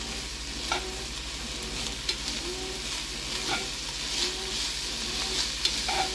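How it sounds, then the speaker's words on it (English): Chopped jalapenos frying in a pot of chili, a steady close sizzle with the scrape of a spoon stirring every second or so. "Now we're adding chopped jalapenos."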